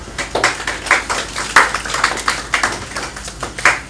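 An audience at a dropshipping masterclass claps in a loose, uneven rhythm, sharp nearby hand claps rising and falling for a few seconds with no talking.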